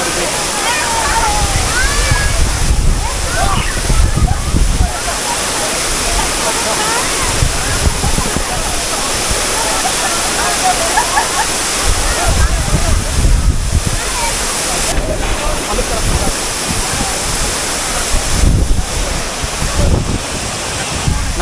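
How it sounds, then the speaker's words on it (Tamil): Water roars steadily at Chinna Suruli Falls, a broad, continuous rushing wash with gusts of wind, while people talk loudly over it in bursts. "வந்தாச்சு சின்ன சுருளி ஃபால்ஸ்"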